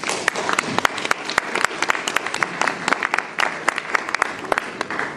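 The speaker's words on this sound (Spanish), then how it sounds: "pido un aplauso para los organizadores" A crowd at a musical duo's concert in Chota applauds the organizers, a dense run of sharp, distinct claps close by that holds steady for several seconds.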